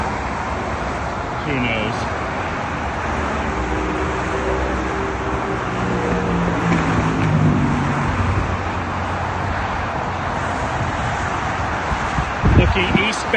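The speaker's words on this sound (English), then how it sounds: "there's the pedestrian overpass. And we're crossing over the 101 freeway." Traffic on the 101 freeway heard from a pedestrian overpass, a constant broad roar of passing vehicles that swells gently and fades, with a person speaking briefly over it.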